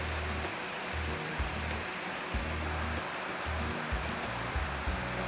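A waterfall below Crooked Creek Falls near Hot Springs, Arkansas, roaring as a steady broadband rush of falling water, loud and continuous with low rumbling undertones.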